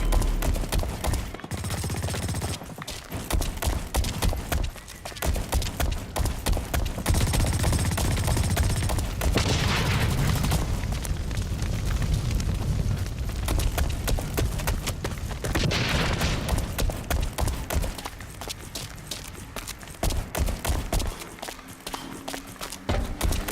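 Rapid bursts of submachine gun fire in the video game BlackLight Retribution on PS4 during a team deathmatch, loud clustered volleys mixed with running footsteps and brief pauses throughout.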